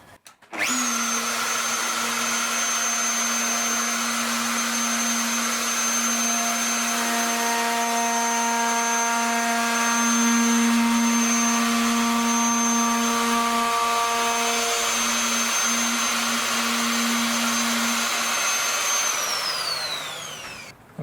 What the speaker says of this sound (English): All I'll do is round over these edges, give it a sand, and then it's basically done.